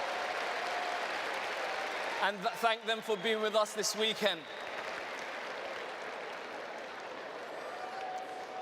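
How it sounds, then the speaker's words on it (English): An audience at a Rotterdam business training event breaks into a short burst of applause, dense and rhythmic, that stops abruptly. A presenter speaks before and after the clapping. "Give them a round of applause."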